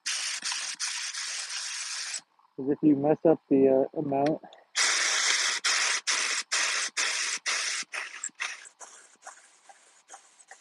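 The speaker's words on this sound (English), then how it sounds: "One reason I hate spray guns" A spray gun hisses out glaze in long, loud, steady bursts, pausing briefly while a person speaks, then resuming in a rapid series of short sprays.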